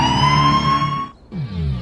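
An ambulance siren wails loud and close with a steady, sustained tone, cutting out briefly before surging back in.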